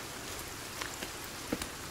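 Rain falling in the survival video game Sons Of The Forest, a steady soft patter with a few brief sharper drips and knocks, no talking over it.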